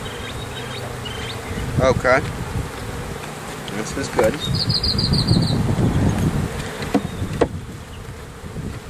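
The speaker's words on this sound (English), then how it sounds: "Ooh, sorry, bees." Honey bees buzz steadily around a hive during requeening, a dense close drone with brief higher whines, while a person speaks a few short words over it.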